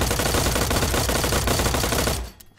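Rapid automatic rifle fire in the tactical shooter game Transience, a loud continuous burst of closely spaced shots lasting about two seconds before cutting off abruptly.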